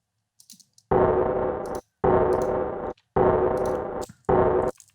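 A tambourine sample pitched down in Ableton Simpler plays four dull, evenly spaced hits, each sustained nearly a second with short gaps between, and faint higher jingles ringing between the hits.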